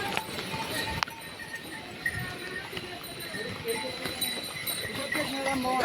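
Horses on the rain-soaked Kedarnath trekking path clip-clop past in a fast, uneven rhythm of hoofbeats, fairly faint under rain and background voices.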